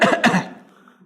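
A person coughs twice in quick succession, close and fairly loud, then the sound trails off into a brief, quieter throat-clearing rasp.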